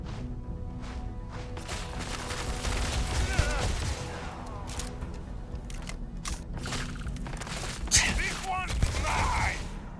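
Enemy gunfire in the sci-fi shooter Starfield, a busy stream of shots, impacts and mechanical clanks layered over game ambience, with occasional louder bursts near the end.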